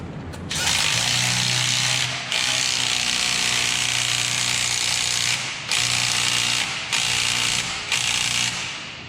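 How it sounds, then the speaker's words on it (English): A power tool or ratcheting wrench works a bolt on a monster truck in loud, close bursts of rapid mechanical rattling, each lasting several seconds, with short pauses between them. "I'm actually gonna put a wrench on that though."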